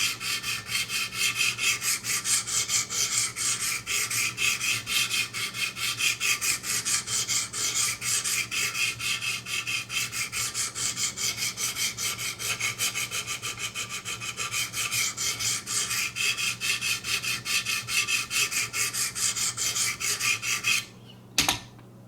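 A Spyderco C73GPD Impala plain-edge knife blade ground on a sharpener, a continuous rasping, scraping rhythm of steel on abrasive that runs steadily for about twenty seconds, then stops with a couple of brief final strokes.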